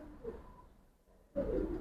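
Domestic pigeons cooing at close range in a loft holding a large collection of silver and bagha breeds, with soft murmuring calls early on and a louder burst of cooing near the end.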